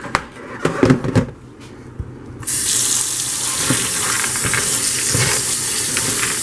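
Tap water gushes into a container holding sunflower seeds set to soak, starting after a few handling knocks and then running as a steady loud splashing stream to the end.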